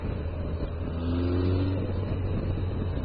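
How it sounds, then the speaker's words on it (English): Suzuki Bandit motorcycle with the exhaust baffle removed, riding as the engine revs up in a rising, rumbling pull, loud and close against steady wind noise, with no talk. "I'm not sure if you can hear the exhaust a little bit more, but I've taken the baffle, or whatever you like to call it, out"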